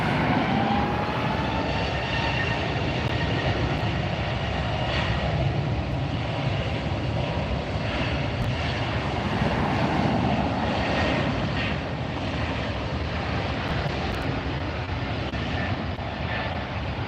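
An Avianca airliner takes off from a runway at LAX, its jet engines roaring continuously and loudly at close range, without talk over it.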